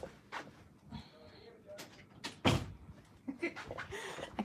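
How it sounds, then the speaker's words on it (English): A bedroom door in a house is pushed shut with a single firm thud partway through, set among soft handling noises and a faint background voice. "Let me go close my door"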